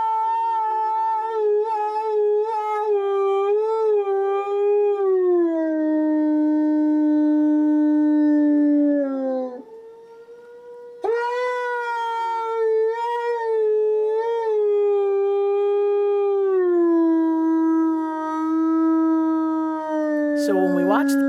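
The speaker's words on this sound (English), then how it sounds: "here's some footage of Grizzer howling" A wolf howls in long, sustained wavering tones, one continuous howl sliding slowly downward, a brief pause, then a second long howl that ends in a sharp upward rise, loud and close with no other sounds.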